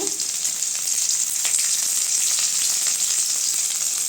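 Mustard seeds, onion and curry leaves fry in hot oil for banana stem poriyal, giving a loud, steady, close sizzle that runs unbroken with no voices.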